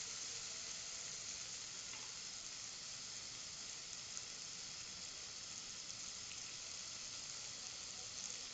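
Tomatoes sautéing in a pan as cut eggplant is added, a steady close sizzle and frying hiss with soft stirring scrapes running evenly throughout, no talking.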